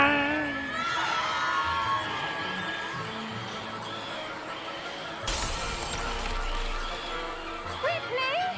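Mandrake plant in Hogwarts Legacy screaming as it is pulled from its pot, a loud piercing shriek bursting in mid-clip over a busy backdrop of shouting children and crowd noise, with chirpy whistles near the end.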